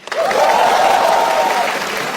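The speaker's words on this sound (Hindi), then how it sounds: "थोड़ी तालियां हमारे ओपनिंग एक्ट के लिए भी।" A comedy show crowd applauds the opening act, a thick wash of clapping that swells in quickly and holds loud and steady, with a sustained cheering whoop over it.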